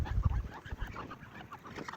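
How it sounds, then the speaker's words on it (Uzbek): Geese walking through an alfalfa field give a few short, soft honks against a low outdoor rumble. "Mana g'ozlarimiz. Bedada yuribdi."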